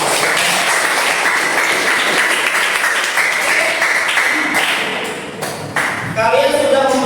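A classroom of students applauds in dense, sustained clapping that fills the room, fading slightly before a final swell, with voices mixed in.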